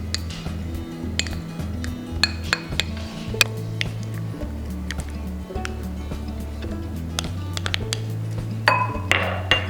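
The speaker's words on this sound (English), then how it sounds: "I'm just gonna mix the mayo and onion into it." A spoon scraping and clinking against a bowl while strained tuna is stirred with mayo and onion, irregular taps over steady low background music, close and moderately loud.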